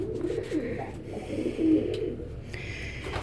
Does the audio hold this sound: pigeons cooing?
yes